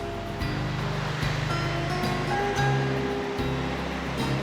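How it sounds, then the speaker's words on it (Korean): Ocean surf breaks on a sandy beach at a Yangyang surfing village in Korea, a continuous rushing wash with low rolling swells, fairly close and steady with no voices. "거침없이 밀려왔다 사라지는 파도"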